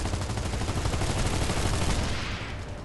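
Continuous heavy gunfire from the online shooter game Planetside 2, a dense, loud barrage of rapid shots running unbroken for about three seconds and easing off slightly at the end.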